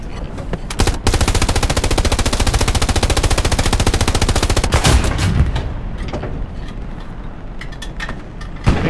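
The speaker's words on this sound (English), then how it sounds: "MG fire coming from behind us" Machine gun fire in the World War II shooter Hell Let Loose, a long, rapid, unbroken burst of loud, close shots that tails off into scattered distant gunfire and rumble.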